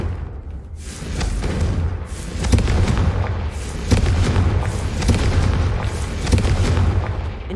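Confringo blasting spells exploding in Hogwarts Legacy, a run of deep booming blasts and crackling bursts at irregular intervals over a continuous rumbling game backdrop.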